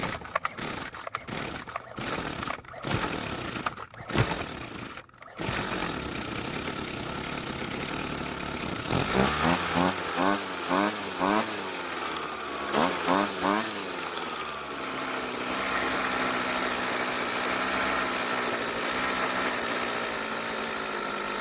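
A small engine idles steadily after its idle screw is turned clockwise about three turns, a continuous mid-pitched hum with a brief revving flutter partway through, following some initial clunks and handling noise.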